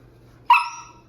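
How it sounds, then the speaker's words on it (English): A pet dog gives a single sharp bark in the background, one clear bark that stands out against otherwise quiet indoor surroundings. "that's Luke, our dog, in the background"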